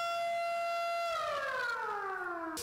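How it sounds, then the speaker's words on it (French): A civil defense siren sounds at a primary school certificate exam centre in Akpakpa, holding a steady loud wail that then glides downward in pitch, heard alone with no talk. "8h30, la sirène retentit."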